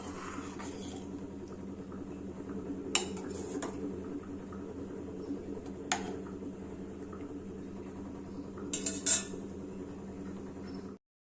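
A spoon stirs coconut sambar with vegetables in a pot, giving a few sharp metallic clinks spaced several seconds apart over a steady low background hum.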